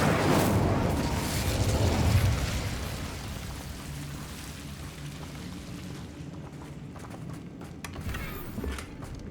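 Spell explosions erupt in the Hogwarts Legacy video game, a dense noisy burst of blasts and crackle that peaks early then fades into a softer rumbling tail, with scattered sharp hits near the end.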